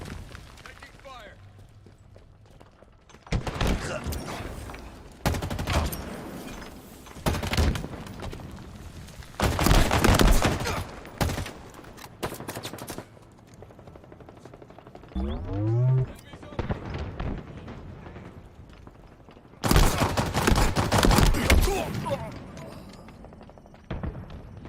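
Video game firefight with bursts of rapid gunfire and explosive volleys, loud and close, broken by quieter gaps, with game radio voices calling out over the action.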